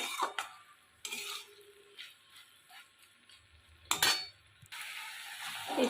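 Okra and shrimp stirred and fried in a pan with no water added. Intermittent scraping and clattering strokes of a utensil against the pan come in short bursts over a faint background hiss, with quiet gaps between them.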